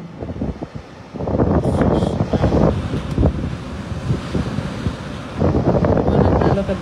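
Strong typhoon wind gusts hard in Legazpi, roaring as a loud, rumbling buffet against the microphone that swells and eases in continuous waves with no break.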